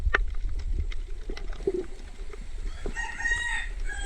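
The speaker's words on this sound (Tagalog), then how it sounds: "May sisiw pa. May manok pa." Outdoor chickens, with chicks nearby, cluck and a rooster crows partway through, moderately distant over a steady low background rumble and scattered knocks.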